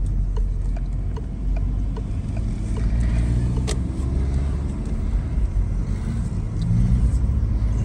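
A car drives along a city road in Kremenchuk toward a car market, heard from inside as a steady, close, low engine and road rumble with faint ticking, and no talk.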